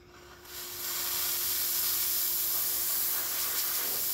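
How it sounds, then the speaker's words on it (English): A La Pavoni espresso machine's steam wand lets out a strong, steady hiss after a short quiet start, close and loud, holding constant to the end with no talk. "Let's check the steam."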